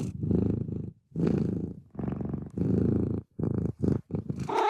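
A cat character's purring in the Arknights video game, a loud close purr in several long rhythmic rumbling bursts separated by brief pauses.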